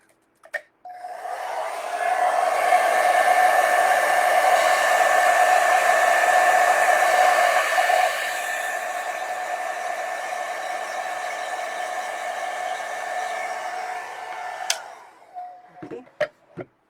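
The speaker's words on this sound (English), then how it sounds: "I'm just gonna quickly use my blow dryer to just hasten the drying time of this one" A hair dryer blows steadily for about fourteen seconds on watercolor swatches, loud and close, its whirring pitch shifting slightly midway before it switches off, followed by a few small clicks.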